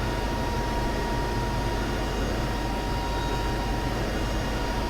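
Propeller engine drone of an Iris T-6 Texan trainer aircraft in a flight simulator game, a steady, loud, unbroken broadband roar that holds constant throughout with no talking.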